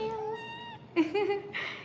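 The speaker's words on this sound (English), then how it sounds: "Look at my beautiful kitten!" A young orange kitten gives a clear, close, drawn-out meow indoors in an apartment, followed by a few moments of a person speaking nearby.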